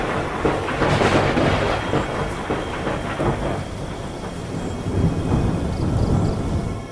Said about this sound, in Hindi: तभी अचानक उस समुद्र में तेज तूफान उठने लगा और लहरें ऊपर नीचे करने लगी।